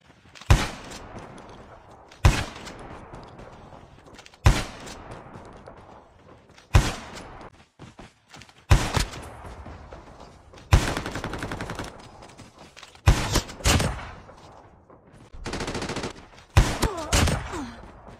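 Shotgun blasts in Call of Duty Mobile, fired while sliding: sharp, loud single shots spaced a second or two apart, around nine in total, with brief rumbling decays and movement noise between, no talk.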